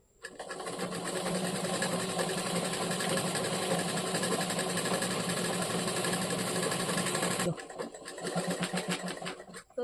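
Sewing machine stitching a hem on a bag made from a cement sack, running in a continuous rapid buzzing whir for several seconds before stopping, close and steady.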